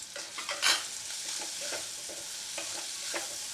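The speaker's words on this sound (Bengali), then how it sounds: "এবার এর মধ্যে আমি একটু ক্যাপসিকাম দেব" Egg masala with capsicum stirred and fried in a pan, a steady sizzle under repeated scraping strokes of a spatula, close and moderately loud, one sharper clatter early on.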